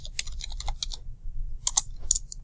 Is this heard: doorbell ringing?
no